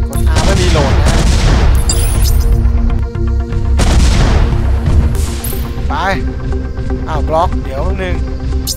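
Gunfire in the video game MASS Builder: dense bursts of shots and booming blasts crowd together, loud and close, with a steady game backdrop running underneath.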